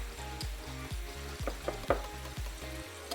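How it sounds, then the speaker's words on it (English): Mayonnaise and olive oil are whisked in a bowl, producing quick, regular scraping strokes about four per second, close and fairly quiet, with no talking. "4 tablespoons of olive oil, and give it a whisk."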